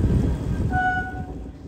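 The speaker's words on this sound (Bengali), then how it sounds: "স্টেশন ছাড়ার পর ট্রেনটা একটা সুন্দর বাঁক নিতে শুরু করে আর এগোতে থাকে গঙ্গা নদীর দিকে।" A train rolls away from Mughalsarai station on the Kolkata–Varanasi route, heading toward the Ganges; a loud, steady low rumble fills the clip, with a brief whining tone in the middle.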